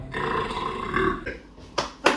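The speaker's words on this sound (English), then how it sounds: "can burp on command if that is helpful." A man burps on command during an interview, a loud guttural burp lasting about a second, then two short sharp sounds near the end.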